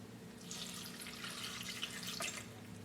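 Water and vegetable bouillon pour steadily into a food processor already holding green bell pepper and onions, a continuous splashing liquid rush that holds fairly even for about three seconds, close and moderately loud with no talking.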